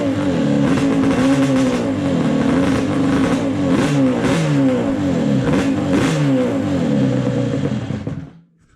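A Yamaha Banshee two-stroke engine runs loud and close, revving in a series of sharp throttle blips over a raspy idle before cutting out abruptly at the end.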